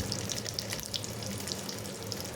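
Mustard seeds, urad dal, chana dal and curry leaves sizzle in hot oil, a faint, continuous crackling hiss with scattered small pops, heard alone and close.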